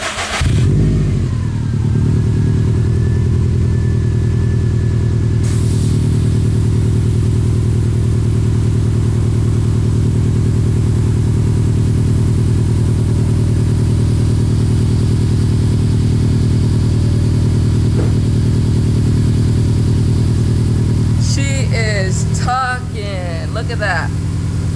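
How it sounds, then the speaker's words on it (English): Subaru STI cranks and starts, then settles into a loud, steady, throbbing idle close to the microphone for about twenty seconds, with a brief higher whine and clatter near the end. "Now, only thing left to do is to start the car and air it out for you guys."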